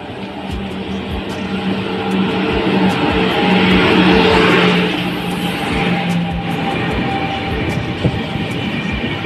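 A train pulls into a busy railway station, its rumble and engine noise swelling to a peak midway and then easing, set against steady platform ambience with no clear speech.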